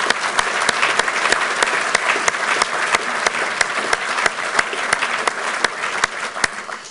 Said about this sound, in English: So a round of applause for Josh and what he's did for this so far.